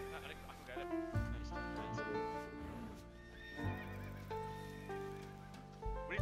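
Horses whinnying and neighing in the Wurm Online game during a PvP battle, with harmonic calls and clip-clop hooves layered over music-like tones and voices talking throughout.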